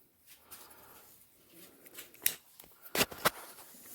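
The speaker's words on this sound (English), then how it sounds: "So I will go ahead and get this cut open." A package is cut open on a workbench, with quiet rustling and handling before a few sharp snipping and tearing bursts near the end, close and brief.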